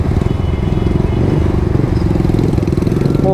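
Custom Yamaha Vixion motorcycle with a steady, close engine rumble that runs throughout without pause, while people talk lightly in the background.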